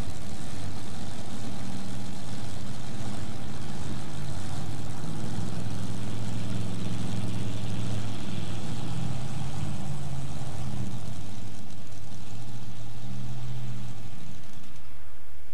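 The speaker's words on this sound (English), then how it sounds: "Man, that Allison aircraft engine, look out." An Allison aircraft engine roars nonstop at a 1997 National Farm Machinery Show tractor pull, a loud, broad, sustained drone with a gritty low rumble that eases slightly toward the end.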